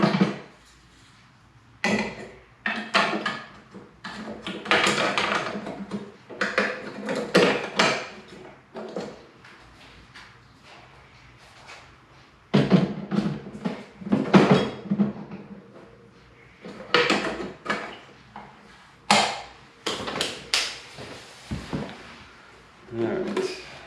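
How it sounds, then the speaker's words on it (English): Parts of a Ridgid oscillating edge belt and spindle sander are handled as the belt assembly is swapped for the spindle: a string of close, irregular knocks, clicks and metal-and-wood clunks separated by short pauses. "we're just going to replace this belt sander with the spindle."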